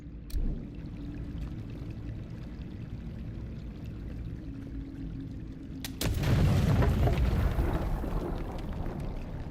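A grenade bursting in the video game Avowed, a sharp crack followed by a loud, rumbling blast and lingering debris wash over low ambient game sound.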